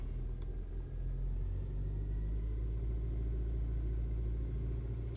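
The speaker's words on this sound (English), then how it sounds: "And here's run and make sure we're neutral. I can take my feet off there. We rev it up a little bit." A 2012 Hyundai Santa Fe with the 2.4 engine, which has a stalling fault, revs in neutral, a steady low rumble with a slight rise in pitch, close and continuous, with no talking.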